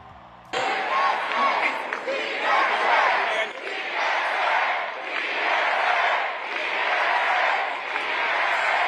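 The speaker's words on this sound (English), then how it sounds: "The crowd chanting slogans like "Freeze the Rent," as well as DSA" A rally crowd in Queens shouts slogans in unison, a loud mass of voices rising in repeated chant phrases with short dips between them, mixed with cheering after an abrupt start.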